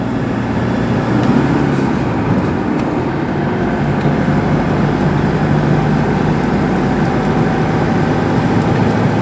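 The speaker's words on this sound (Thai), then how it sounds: "เดี๋ยวผมจะให้ท่านผู้ชมลองฟังดูนะครับว่า บรรยากาศในการขับขี่เป็นอย่างไรกันบ้างนะครับ กับยางแม็กซิสรุ่น AT700 ใส่กับ Toyota Vigo ครับ" A Toyota Hilux Vigo Prerunner pickup on Maxxis AT700 all-terrain tires cruises at 80 km/h, a steady loud in-cabin road roar and tire hum with low engine drone, constant throughout.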